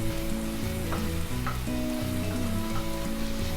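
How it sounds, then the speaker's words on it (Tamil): Tomatoes and onions sauté together in a pan on high flame for a capsicum masala, a loud, continuous sizzle broken by a few sharp scraping strokes of stirring. "டொமேட்டோ ஆட் பண்ணிவிட்டு நம்ம நல்லா கலந்து விட்டுடலாம்."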